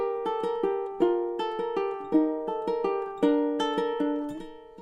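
A ukulele plucks a Christmas song with a bass line and melody together, bright picked notes in a steady rhythm, close and solo with no talking.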